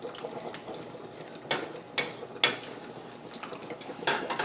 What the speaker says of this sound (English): And now we need to stir it